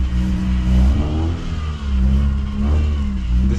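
A Technica car's engine revs steadily while driving, a loud, close, continuous drone with a slight dip partway through and no voices.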